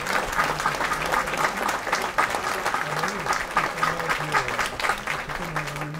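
Audience applause at a summer literary festival event in Cap Ferret, dense steady clapping throughout with a voice talking over it.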